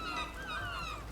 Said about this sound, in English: A lot of birds in my ear.